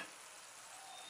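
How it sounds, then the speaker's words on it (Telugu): Chicken pieces frying in oil in a covered pan, a faint, steady hiss of sizzling with no voices. "ఒకసారి గరిటెతో నూనెలో బాగా కలుపుకున్న తర్వాత మూత పెట్టుకుని 1-5 నిమిషాల పాటు వేపుకోవాలి"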